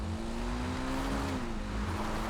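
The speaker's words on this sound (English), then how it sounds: "You get back on the motorcycle." Steady motorcycle engine in GTA 5 held at a droning pitch that rises slightly and then eases, loud and continuous throughout, with no talking.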